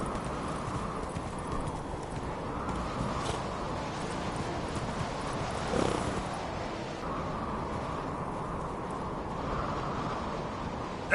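Roach the horse in The Witcher III: Blood and Wine clip-clops along in a steady, continuous hoof rhythm over a low wind-like background, with no speech.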